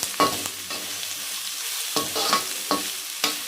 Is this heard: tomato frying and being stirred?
yes